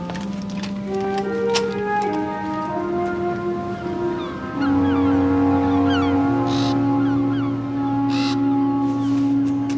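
A raven caws several times in an audio drama set at sea, with sharp calls over a sustained foghorn-like drone and music.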